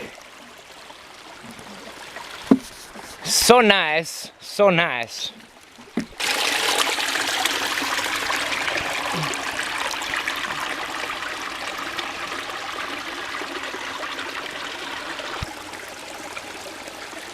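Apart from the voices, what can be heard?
creek water flowing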